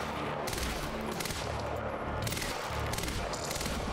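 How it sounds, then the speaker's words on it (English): Bursts of gunfire from the video game Quantum Break crack out in quick volleys, each trailing a long echo, steady and moderately loud with no voices. "Like the echoes of the gunshots."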